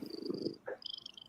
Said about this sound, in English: that's my cat purring right into the microphone.